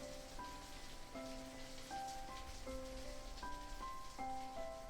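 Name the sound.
rain falling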